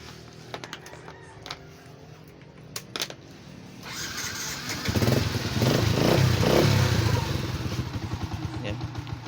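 A motorcycle engine, a Sniper 135 just repaired after a cylinder head fault, starts and settles into a steady idle at close range, with a voice speaking briefly beforehand.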